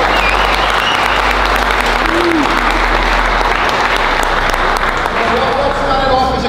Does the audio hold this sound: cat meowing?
no